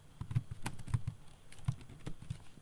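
Someone types CSS code on a computer keyboard, faint, close key taps in an uneven rhythm of soft clicks with a few louder strokes, and no voice.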